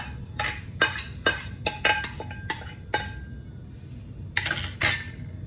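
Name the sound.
vermicelli added to boiling milk and stirred in pot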